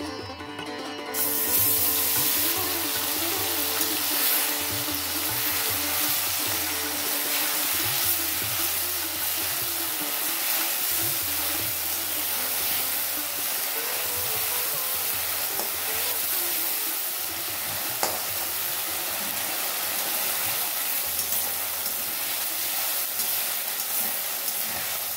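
Tempering spices frying in a pan on a gas stove, a steady soft sizzle and hiss that runs evenly throughout, with a low hum underneath.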